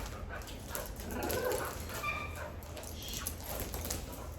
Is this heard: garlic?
no